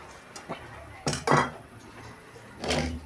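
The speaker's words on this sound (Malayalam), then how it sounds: "ചീനച്ചട്ടി കയറ്റി വയ്ക്കാം." A cheenachatti wok is set on a kitchen stove with a few sharp metallic clanks and knocks, two close together near the middle and another toward the end, between quiet gaps.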